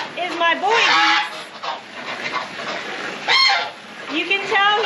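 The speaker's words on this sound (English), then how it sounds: "The loud one over here is my boy geese." A male goose indoors honks loudly in repeated nasal calls, several bursts near and clear with brief pauses between, and other fowl faintly in the background.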